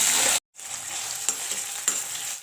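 Curry leaves hitting hot oil for a spicy black chickpea curry, a sharp burst of sizzling that cuts out briefly, then a steady crackling fry with a couple of louder spits, close and without talk.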